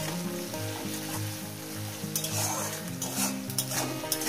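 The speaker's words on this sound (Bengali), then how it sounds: "লবণ দিয়ে পেঁয়াজটাকে ভেজে নিই।" Onions frying with salt in a pan for a Bengali fish curry, a soft steady sizzle with repeated scraping strokes of a spoon against the pan and occasional light clinks, no talking.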